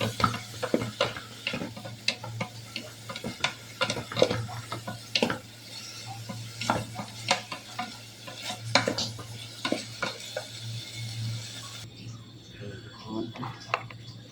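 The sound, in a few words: eel being cooked in a pan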